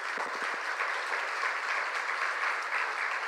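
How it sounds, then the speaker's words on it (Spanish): Church congregation applauding during a Spanish-language service, a dense, steady roar of many hands heard from some distance, preceded by a few low thumps at the start and holding evenly to the end. "Dale otro aplauso al Señor."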